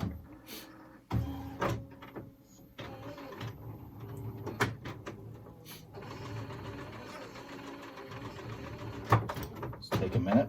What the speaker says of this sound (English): I want to go ahead and do another nozzle check.